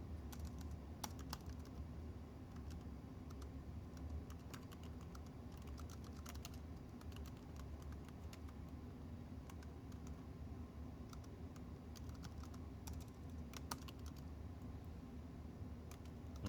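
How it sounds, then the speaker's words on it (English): Someone types on the keyboard of an IBM Lenovo T60 laptop. The clicks are quiet and close, arriving in irregular bursts of keystrokes over a faint steady background hum. "And I'm typing"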